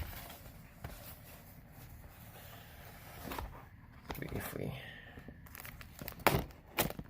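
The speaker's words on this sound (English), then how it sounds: "these scissors are gonna have to do overtime" A tight plastic eBay mailer package being cut open with scissors, with irregular bursts of crinkling and tearing plastic close by, separated by quieter pauses.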